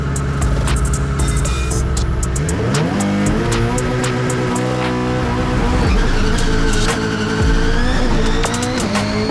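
The Project Midnight drag race car roars loudly up close, its engine revving and rising in pitch through repeated surges, with tire squeal and a sustained, heavy mechanical howl.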